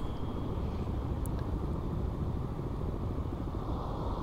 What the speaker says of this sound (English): Yeah, helicopter overhead there.